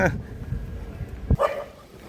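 A dog guarding a rural yard gives a short, sharp bark or two near the middle, close by, amid outdoor background noise and some voices.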